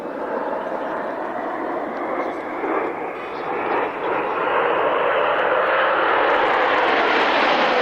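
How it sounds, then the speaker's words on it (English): Concorde flying a display pass trailing colored smoke at the 1999 Woodford Airshow, its engine roar near and loud, swelling and brightening toward the end, with a commentator talking over it. "another flight pass in Concorde with the color smokes"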